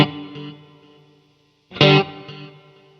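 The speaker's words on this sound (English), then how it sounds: "Just wanted to get lost in the reverb." Electric guitar chords through a Line 6 POD Go ringing out with a lush reverb tail, two strums fading into a quiet gap before a louder, washed-out chord blooms and decays.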